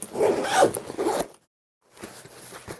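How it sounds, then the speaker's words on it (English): A zipper closes a pocket on a camera bag, a close rasping pull lasting just over a second, then a brief silence and a softer second stretch of zipper or fabric handling. "And I'm going to zipper that back up."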